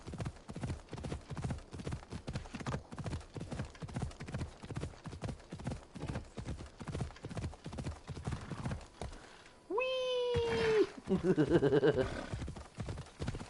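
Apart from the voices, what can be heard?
horse hooves clip-clopping in the video game Assassin's Creed Odyssey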